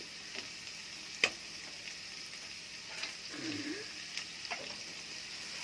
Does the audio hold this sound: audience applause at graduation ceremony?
no